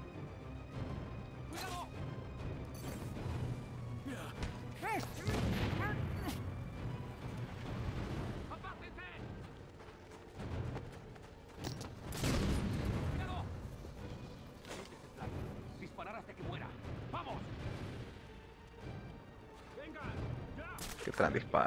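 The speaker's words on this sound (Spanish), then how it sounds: "Disparo, traen de pistola." Repeated sharp pistol gunshot bursts in Batman: Arkham Origins, scattered irregularly over busy game sounds and a talking voice.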